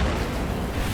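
A concussive ordnance explosion in Space Marine 2 gives a brief, dense rumbling roar that fills the whole second and fades slightly toward the end.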